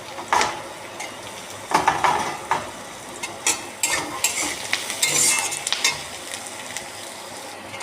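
Whole garlic cloves fry in a pan for a tangy prawn fry, with a continuous sizzle broken by repeated clanks and scrapes of a spatula stirring against the pan.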